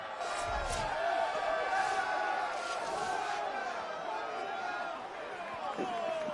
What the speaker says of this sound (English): the 3D audio on the crowd is excellent this year. You can hear the individual boos and cheers and words.